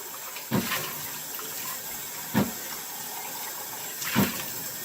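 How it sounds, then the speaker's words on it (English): Boiling water is poured off boiled wild pods through a strainer into a sink: a steady rush of running water with three sharper splashing surges spaced a couple of seconds apart, close by. "we're going to strain out the boiling water"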